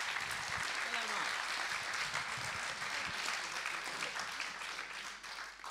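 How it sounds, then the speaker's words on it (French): A seated audience applauds Haïm Korsia again, giving a steady, moderately distant roll of clapping with faint voices murmuring underneath that fades slightly toward the end. "donc je vous redemande de l'applaudir à nouveau"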